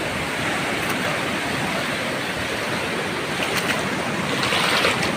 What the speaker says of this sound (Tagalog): napakalakas po ng agos